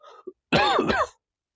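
A throat-clearing cough, one short close rasp followed by a brief pause and a longer, harsher clearing of the throat, heard alone in a quiet room.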